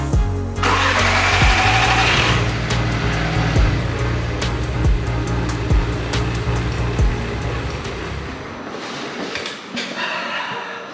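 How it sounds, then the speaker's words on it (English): A newly installed VW Golf R Mk6 engine in a wrecked car cranks and catches, then runs with a steady rumble and rhythmic knocking, loud and close, gradually settling toward a quieter idle. "Guys, the engine starts!"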